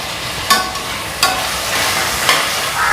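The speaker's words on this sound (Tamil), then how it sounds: "இப்போ தக்காளி போட்டுடலாம்" Tomatoes and salt tipped into frying onions for a quick tomato rice sizzle steadily in the pan, with a few sharp scraping stirs standing out above a continuous hiss.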